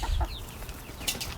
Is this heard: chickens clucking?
yes